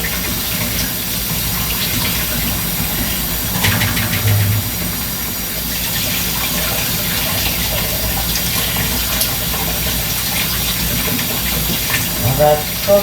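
Water runs from a kitchen tap as something is rinsed, a steady close splashing flow masked by a constant engine-like hum, with a few brief clatters near the end.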